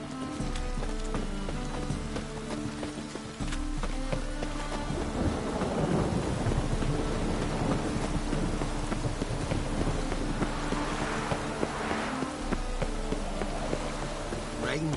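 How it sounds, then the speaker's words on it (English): Rain and thunder in The Witcher 3, a dense, continuous hiss of rainfall with deep rolling thunder swelling through the middle, under a layered game soundscape with no talk. "Rain again. Damn mages."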